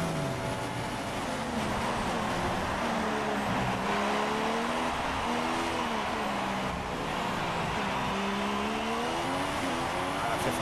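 Formula 1 racing car engines in the F1 2016 game during Singapore qualifying, a steady high-pitched whine with smoothly rising and falling pitch as revs change, loud and continuous throughout.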